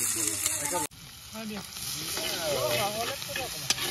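Pork chili frying in a pan at an outdoor New Year party by a river, a steady close sizzle and hiss with a sharp clatter early on and a voice talking over it.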